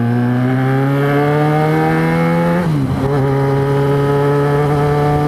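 A Yamaha XJ6 motorcycle engine revs steadily and loudly while being ridden, holding a strong droning tone that dips briefly as the rider shifts, then climbs again and carries on without any talk.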